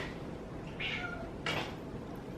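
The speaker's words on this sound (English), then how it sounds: "Ah, the cat." A house cat gives two short, clear meows a moment apart, close by over a quiet room background.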